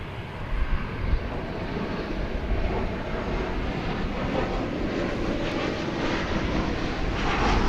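Boeing 737-800 airliner on flight 1361 from Reno, Nevada, at DFW Airport, a steady broadband jet engine roar holding loud and constant throughout, with light wind buffeting and no voices.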